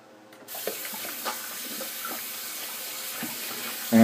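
Tap water runs steadily into a sink while a shaving brush is rinsed out, a close, continuous splashing stream that starts after a brief quiet moment, with small clinks and splashes over it and a louder burst at the very end.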